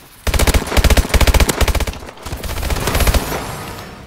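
Automatic-weapon gunfire in Call of Duty: Advanced Warfare Gun Game, loud and close, in two rapid rattling bursts of evenly spaced shots separated by a brief gap.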